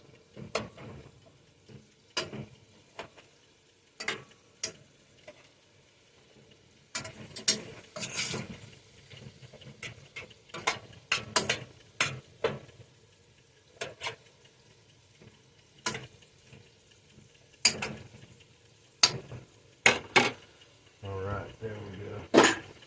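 Softened onions cooking in butter in a pan are broken up with a utensil, giving scattered sharp clicks, taps and scrapes over a quiet sizzle, with brief speech in places.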